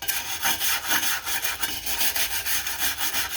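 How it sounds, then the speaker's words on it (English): A wire brush scrubbing old brake dust off the drum brake parts of a 1983 Buick Regal G-Body, a loud, close, continuous rasping scrape in quick back-and-forth strokes with no voices. "I'll be using a wire brush to clean up all this old brake dust here"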